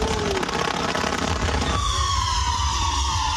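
Fireworks burst at a wedding celebration in Chiayi, Taiwan, in a loud, unbroken stream of crackling explosions, with a long whistling streak sliding through the second half.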